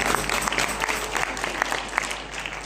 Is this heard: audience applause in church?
yes